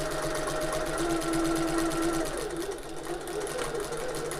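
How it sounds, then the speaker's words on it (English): A sewing machine stitching up the last edge of an open-top tote bag after pivoting at a corner, a steady close whirring hum with a fast even needle rhythm that runs without a break. "Sew to the corner, pivot, and then going up this last edge now"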